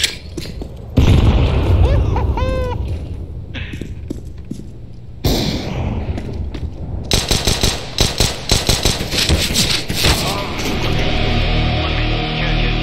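Grenade blast in a first-person shooter game during a live stream, a loud boom followed by sharp bursts of gunfire and further crackling explosions, with the game's sound effects dense and close.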